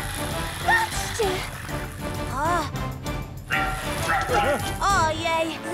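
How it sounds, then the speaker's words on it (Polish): A cartoon fire dog from Fireman Sam barks in a few short, springy yelps, set among animated character voices and busy background sound. "Ojej, znowu ten pożarowy pies!"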